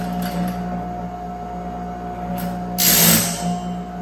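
A Range Road RR5055 bandsaw blade sharpener grinds along the cutting edge of a bandsaw blade, a steady high whine that flares into a louder, gritty rasp near the end.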